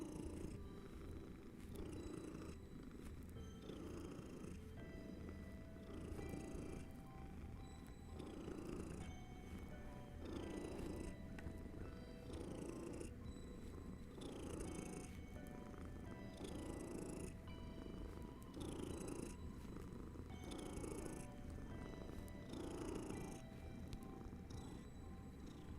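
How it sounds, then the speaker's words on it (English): A pet cat named Kenshin purrs close and steady, with a rhythmic rumble of regular inhale and exhale cycles over quiet game music in the background. "I wonder if I can get you guys to hear his purring."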